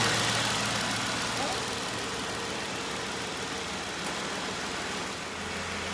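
A car engine idles steadily after an oil change, a constant low hum and faint rattle heard from nearby.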